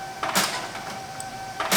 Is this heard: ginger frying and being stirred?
no